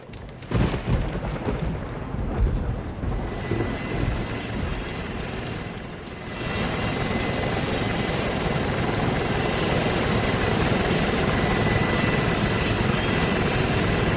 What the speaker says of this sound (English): I left that helicopter running?